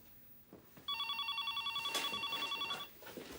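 A telephone rings in a home, two long trilling electronic bursts sounding fairly close and clear, with a quieter room murmur before and after.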